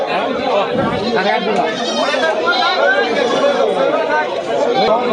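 Goats bleat among a busy crowd of bargaining voices at a village goat market, the animal calls mixed into steady loud chatter throughout.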